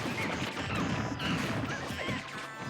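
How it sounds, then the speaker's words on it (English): Forward smash attacks landing in Super Smash Bros. 4 at a tournament match, a dense run of heavy crashing impacts and hits, loud and continuous over busy game noise. "He's just throwing out forward smashes."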